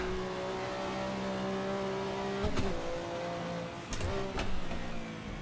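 Porsche 962 C race car engine held at full throttle in Assetto Corsa, a steady loud drone with two brief rough bursts near the end, no talk.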